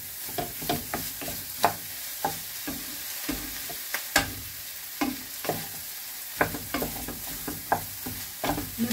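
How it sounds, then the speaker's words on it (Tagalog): Potatoes frying in a pan for a corned beef omelette, with a utensil stirring and scraping in irregular clattering strokes over a steady close sizzle, and no talking. "Lutuin po muna natin yung potato bago natin ilagay yung egg."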